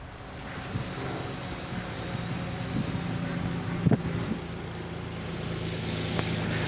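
A light airplane's steady engine drone with wind noise while lining up with the runway to land, fairly loud and continuous, plus a brief thump partway through; no talking.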